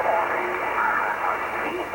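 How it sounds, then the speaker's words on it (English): Shortwave broadcast of Radio Australia received on 19 MHz, a steady hissy band of noise-laden programme audio with faint fading speech-like content, continuous and moderately loud. "especially you can hear it here with Radio Australia being on 19 megahertz exactly"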